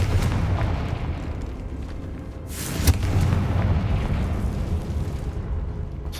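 Confringo fire spell in the video game Hogwarts Legacy: a single sharp explosive burst at mid-clip over a constant rumbling game backdrop of low booms, fairly loud and alone.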